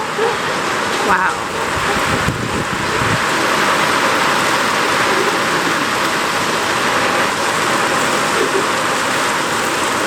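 Heavy rain falls outside a shelter fitted with a nylon roller cover, making a loud, steady hiss and patter that runs unbroken throughout with no break in intensity.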